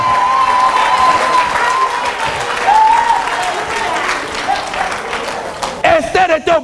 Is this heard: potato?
no